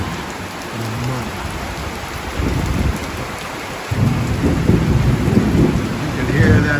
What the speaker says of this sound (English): You can hear that thunder booming.